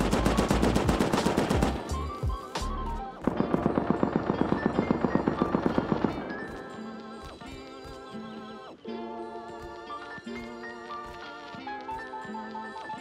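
Gunfire from the video game Rust opens with dense rapid bursts, then fast automatic volleys, and gives way to sparser single shots with ringing tails and no talking.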